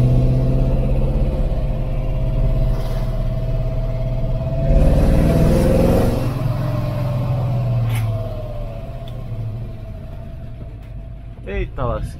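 A Ford Maverick V8 rumbles with a heavy, vibrating low hum, shaking through the clutch, and swells briefly midway as the engine is revved. Voices talk over the engine noise throughout.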